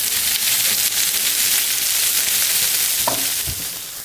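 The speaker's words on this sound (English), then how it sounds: "I'm going to put down our veggies. We got some onions and we got some peppers" Onions and peppers sizzle loudly in oil and butter on a Blackstone griddle, a dense constant hiss with a couple of brief metallic scrape taps near the end.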